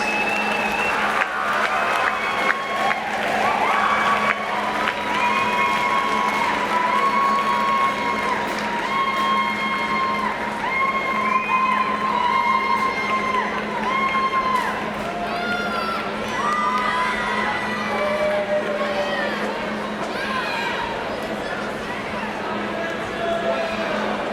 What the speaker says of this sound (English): let's give them a round of applause and our thanks